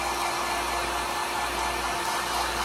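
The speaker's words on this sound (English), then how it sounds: "This is a heat gun" A heat gun blows hot air steadily and loudly to shrink plastic wrap over a holiday gift basket. The even rushing hiss holds unbroken for the whole stretch, with no talk.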